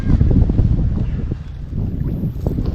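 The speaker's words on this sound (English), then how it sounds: "Got a little bit of wind." Strong wind buffets a fishing boat on a lake, a loud, steady low roar of rushing air and microphone rumble throughout, with no clear voices.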